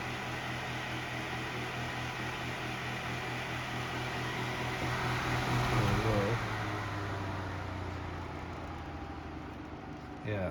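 A Lakewood 9-inch 900A electric fan running, a steady motor hum with a constant airy whoosh and a faint tonal whine, with a brief speed or pitch shift partway, close and continuous.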